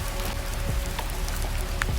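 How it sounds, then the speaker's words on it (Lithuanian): Steady rain falls outside a hotel room window, a soft, continuous patter of drops with no voices, close and even throughout. "tik lietus vis dar krintantis kažkur prie miško"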